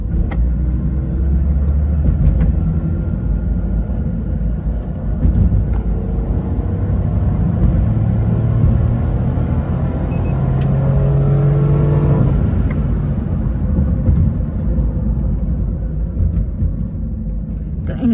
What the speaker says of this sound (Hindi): एंड यहाँ पे मैं पिकअप कर रहा हूँ गाड़ी का प्रॉपर।